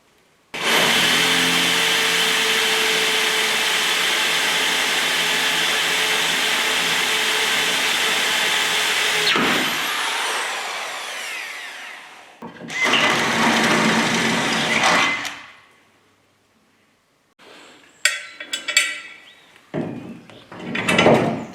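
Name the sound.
drilling holes in chassis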